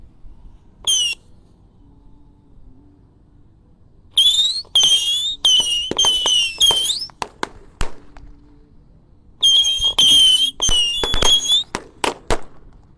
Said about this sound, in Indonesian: di sini ada Patriot misil 25 shot guys. Kita nyalakan sore ini.